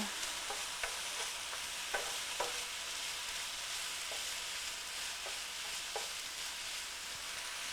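Scooped-out eggplant flesh cooks down in a pan with a soft, steady sizzle, punctuated by periodic scraping taps as a utensil stirs it. The sound stays fairly quiet throughout, with no voices.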